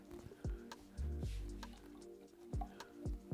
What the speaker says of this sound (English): get a bit of water in the can